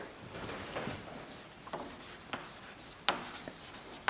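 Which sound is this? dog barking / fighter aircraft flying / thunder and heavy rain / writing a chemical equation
writing a chemical equation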